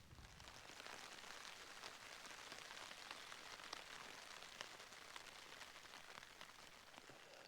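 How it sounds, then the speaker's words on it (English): Steady patter of rain falling on a Hilleberg Akto tent during wild camping at Bowfell in the Lake District, a continuous, fairly soft drumming hiss with scattered sharper drops and no voices. "So the rain's arrived."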